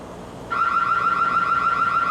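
A Ring Battery Spotlight Cam security camera siren kicks in after a moment of quiet, a loud, piercing electronic wail that warbles rapidly and continuously up close.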